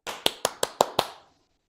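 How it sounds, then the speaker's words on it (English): Six sharp hand claps in quick even succession, close and fairly loud, with a short ring-out after the last; no one speaks. "Let me clap for you."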